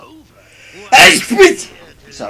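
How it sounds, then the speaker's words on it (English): A single loud, close human sneeze bursts out in the middle, followed by a quick second burst, set against quiet game sounds, with someone speaking briefly afterward. "I sneezed."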